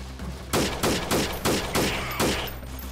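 Unsuppressed gunfire in the video game Freeman: Guerrilla Warfare at night: six loud, evenly spaced sharp shots, each with a short ringing tail, fired close up over a low steady background hum.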